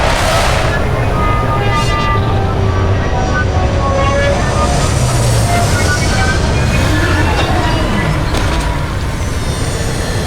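Spaceship landing in the Starfield video game: a loud, steady broadband engine roar with rumbling low end and shifting whine, continuous throughout.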